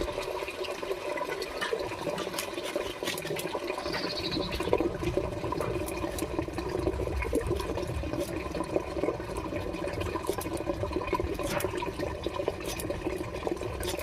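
Water gushes steadily over freshly cut green jackfruit in a basin, a loud, continuous splashing pour that begins a few seconds in and runs without pause, close by and with no voices.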